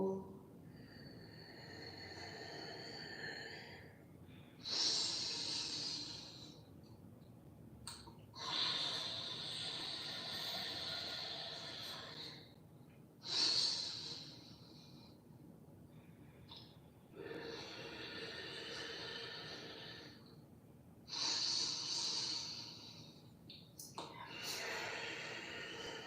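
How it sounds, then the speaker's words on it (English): Deep yogic breathing, slow audible inhales and exhales alternating in long airy swells every few seconds, close to the microphone, with an instructor's calm voice guiding between breaths. "Continue to breathe in this way. Inhale. Observe the rise of your chest. Exhale, watch it fall."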